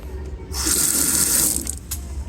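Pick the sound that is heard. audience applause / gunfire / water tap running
water tap running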